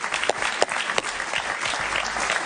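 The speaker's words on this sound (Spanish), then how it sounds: "Un aplauso para Iván, por favor" Studio audience applauding on a Venezuelan political talk show, a steady wash of clapping with a few sharp louder claps standing out, fairly close and continuous throughout.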